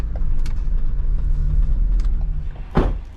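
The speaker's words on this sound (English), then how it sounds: "Garbage truck is with his four-ways on way down there." A garbage truck with its hazard lights on drives by on a street, a steady low engine rumble holding close, then a sharp brief clank or hiss near the end.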